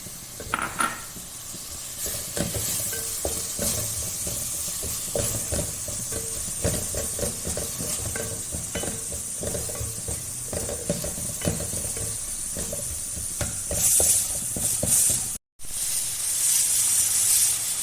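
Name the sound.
ginger garlic paste sizzling and stirred in a pan for chicken curry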